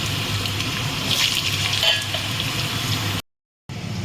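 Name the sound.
potatoes being added to hot oil and frying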